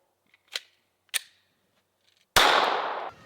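Two sharp pops of a Glock pistol firing frozen ammunition during a torture test, spaced about half a second apart and fairly quiet, then a louder, longer burst of noise lasting nearly a second.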